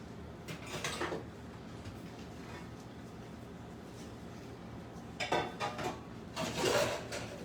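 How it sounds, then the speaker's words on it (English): A cup of chopped toasted pecans is tipped into pineapple zucchini bread batter in a bowl, giving a short rattling clatter near the start and a busier burst of clinks and scraping toward the end, close and fairly soft. "Now we put the nuts in here."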